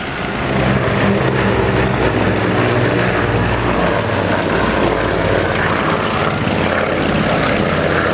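Loud, continuous drone of an Avro Anson's two 420 horsepower Armstrong Siddeley Cheetah engines with a deep rhythmic throb, steady and close, no voices, at an air show at Old Warden.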